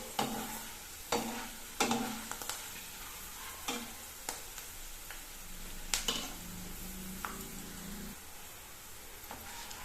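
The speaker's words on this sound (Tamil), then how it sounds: "தேவையான அளவுக்கு கொஞ்சம் கொஞ்சமாக போட்டு பொறிச்சு எடுத்துக்க வேண்டியதாங்க" Sliced lady's finger (okra) vathal chips fry in hot oil, giving a constant soft sizzle broken by sharp scraping and stirring clicks from a utensil, close and quiet with no talk.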